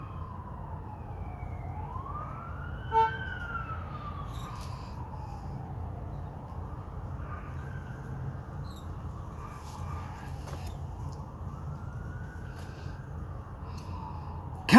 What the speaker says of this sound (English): there's a fire truck somewhere going to something